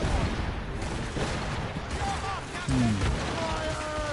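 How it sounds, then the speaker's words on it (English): Musket volleys crack out in a naval battle in Assassin's Creed Rogue, a loud burst of fusillade gunfire mixed with booming shots, shouted orders and chaotic battle noise. "They are firing a volley!"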